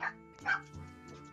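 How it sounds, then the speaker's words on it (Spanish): Household dogs bark indoors in a few sharp yips and woofs spread over a second or so, close and fairly loud with a short whimpering tail. "ya vieron a mis perros ladrar"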